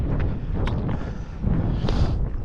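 Strong gusty wind buffeting the microphone on a steep fell path, a loud, rumbling low roar that surges and dips in uneven gusts, close and unbroken by talk.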